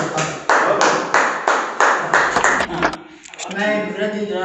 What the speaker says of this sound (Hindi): एक बार जोरदार तालियों से सकता हूं।